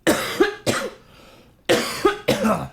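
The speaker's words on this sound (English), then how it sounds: "I'm holding in the biggest cough ever. Let it out." A person lets out a held-in cough as a fit of harsh, close coughs: two bursts, a short pause, then two more, loud and with no talk over them.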